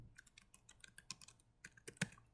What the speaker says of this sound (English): So go ahead and type in Raspberry and then enter.